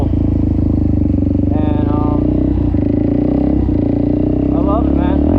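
A Suzuki DRZ400SM with an aftermarket exhaust and an otherwise stock motor and head runs loud and near, a constant throbbing drone while someone talks over it.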